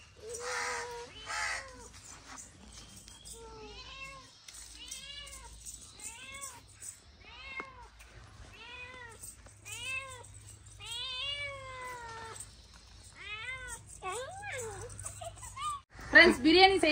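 A cat meows over and over in a kitchen while onions and tomatoes are being prepared for quail biryani, giving a long series of clear, close, rising-and-falling cries. Someone talks over some of the meows.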